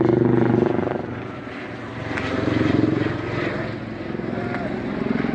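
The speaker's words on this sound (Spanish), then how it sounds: "En la planta de Sencata están sobrevolando aquí 2 helicópteros." Two helicopters fly overhead at a plant in El Alto, Bolivia, making a steady loud rotor drone that swells and fades under a person talking nearby.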